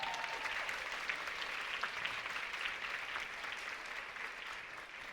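A theatre audience at a dance education anniversary gala claps steadily and loudly throughout, a dense, even wash of applause without pauses.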